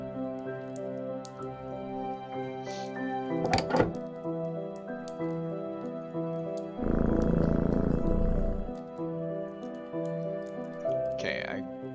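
A sleeping cat purrs in Children of Silent Town as a low rumbling purr lasting a couple of seconds, heard over steady musical tones with scattered thuds and drips.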